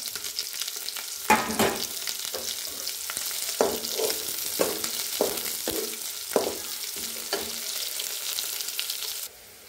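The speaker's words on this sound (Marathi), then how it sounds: "कांदा, हिरवी मिरची, कढीपत्ता टाकूया।" Onion, green chili and curry leaves frying in oil for poha, a bright crackling sizzle punctuated by repeated stirring scrapes, close up, ending in a quieter tail.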